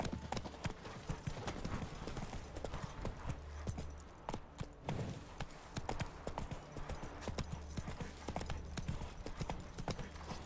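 A horse gallops in The Witcher 3, a dense rapid clip-clop of hooves running continuously and fairly close, with brief game voice sounds mixed in.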